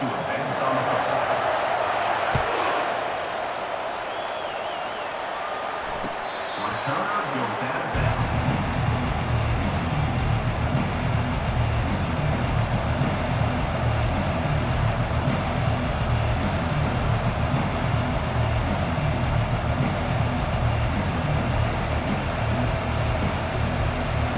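A stadium crowd in the EA Sports College Football 25 video game roars after a touchdown, a dense sustained din that swells in and holds loud, with a commentator talking over it.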